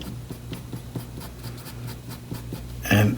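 A pen drawing a hoopoe bird on paper makes soft, rhythmic scratching strokes close up, ending with a brief louder rustle.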